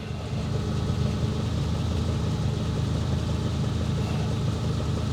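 A 50-year-old Ferrari 250 GT Lusso engine idles steadily after starting, with a deep, low rumble and even throb, close and continuous without any voices.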